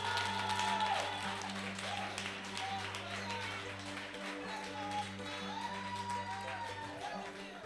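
A church congregation applauds, a soft, continuous patter of many hands heard faintly beneath a steady electrical hum and some voices.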